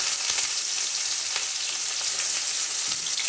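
Chopped onions fry in a hot pan with a steady, close sizzle and occasional soft stirring clicks, continuous from start to finish with no voices.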